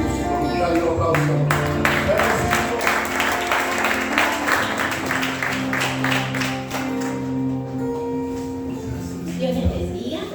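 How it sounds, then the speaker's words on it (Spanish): A church congregation applauds at a Sunday service, giving steady sustained clapping from a large crowd with a voice speaking over it throughout. "Que Dios te bendiga y te use con un gran aplauso."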